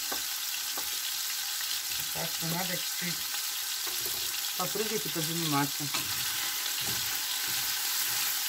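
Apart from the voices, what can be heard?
meat frying in a pan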